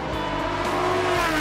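A Lotus race car accelerates hard on a circuit, its engine a loud, sustained, steady roar up close, with no pauses across the burst.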